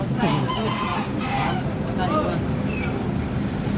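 Chickens calling and clucking, a few squawking bursts, heard from a tricycle over a constant loud rumble of wind or engine noise.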